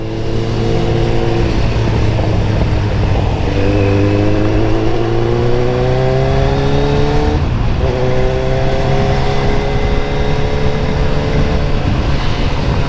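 A loud engine roars as a motorbike passes on the road near a Kawasaki Z900 big bike, its pitch rising through several gear changes, with no talking over it.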